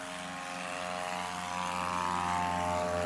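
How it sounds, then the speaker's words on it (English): A backcountry light plane takes off on a short-field run with a quartering tailwind, its propeller engine droning loud and steady, the pitch and volume rising slightly over a few seconds with no voices. "that was a great takeoff from Jerry"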